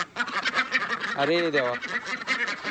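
Ducks quack in a short burst of calls as they are fed insects among chickens, heard close and mixed in with steady talking.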